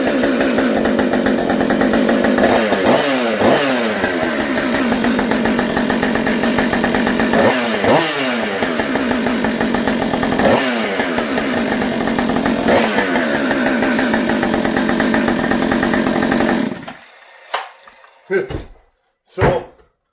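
A Stihl chainsaw in a workshop, a 461, 562 or 266, runs after a restart with the choke set, a loud, steady buzzing idle with several revs for about seventeen seconds before it cuts off, followed by a few knocks.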